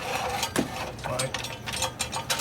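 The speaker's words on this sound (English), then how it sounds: "Jack the bike up so get the rear wheel off the ground." Lift jack raising a 1988 Harley FXR motorcycle gives a close, rapid ratcheting clatter of repeated mechanical clicks, loud and continuous for a couple of seconds.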